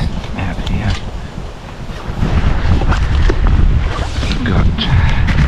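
Strong coastal wind roars and buffets the microphone continuously, with rough gusts and possible surf underneath, loud throughout.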